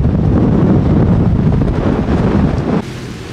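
A Lagoon 380 catamaran under sail in the Caribbean, with steady wind buffeting the microphone over rushing water and hull noise, loud and continuous before dropping abruptly near the end.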